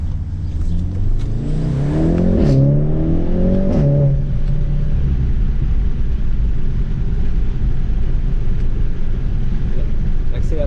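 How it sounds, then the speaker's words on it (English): A Volkswagen Golf 7 R with an Akrapovic exhaust accelerates, its engine note rising loudly in a sweeping climb before settling into a steady drone, with a few brief pops, heard from inside the car while someone talks. "On sent les petits coups, les petites explosions du pot d'échappement."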